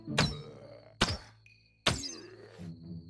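Crossbow shots in the Infestation Survivor Stories video game: three sharp thunking releases roughly a second apart, each with a short ringing tail and a faint electronic tone between.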